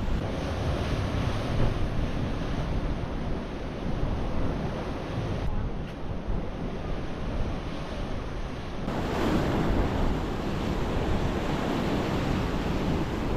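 Steady wind blows on a rocky coast near a cave, buffeting the microphone over constant crashing surf. The roar holds for over ten seconds, with one brief dip in the middle.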